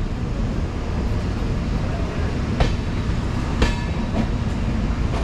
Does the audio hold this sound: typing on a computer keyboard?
no